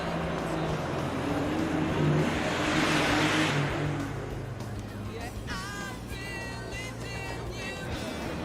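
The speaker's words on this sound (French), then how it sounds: "Tu pourrais pas rouler encore plus vite?" A car drives fast, its engine roaring steadily and building before settling into a lower hum, with people talking over it.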